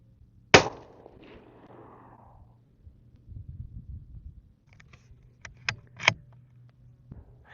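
A single sharp crack from a CZ 457 American rifle in 17HMR, close and loud, followed by quieter rustling and a few metallic clicks as the bolt is worked.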